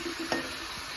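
Marinated chicken hits a hot pan and is stirred, giving a steady close sizzle with a brief scrape of the spoon, loud and unbroken with no voices.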